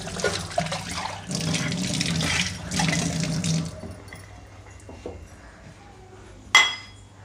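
Tap water runs in steady gushing bursts over meat being rinsed at a home kitchen sink, then eases off to quiet trickles and faint clinks, ending with a single sharp clatter close by.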